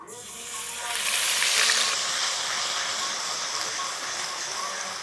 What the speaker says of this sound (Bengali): ফোড়নে দিচ্ছি গোটা মৌরি দিয়ে দিচ্ছি পেঁয়াজ বাটা